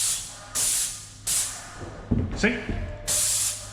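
A paint spray gun hisses in short bursts while coating a staircase's risers, three loud trigger-controlled sprays separated by pauses, with a brief spoken word between them.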